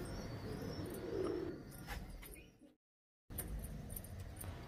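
Pakistani Teddy pigeons coo softly nearby, a low murmuring burst with faint chirps and light rustling, followed by a short silent gap before quiet background sound resumes.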